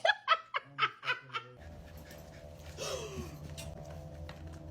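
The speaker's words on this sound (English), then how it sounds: "My baby dog. That's just my baby dog." A pet dog panting in quick, breathy huffs with a rough, sustained rasp, following a run of loud, short vocal bursts at the start; close by and fairly loud.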